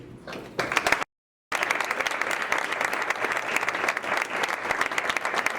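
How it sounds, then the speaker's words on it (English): Audience applause honoring cancer survivors at a Relay for Life gathering in Grand Island, a sustained crowd of clapping hands that cuts out briefly early on and then continues steadily, fairly close and full. "we honor you and applaud you"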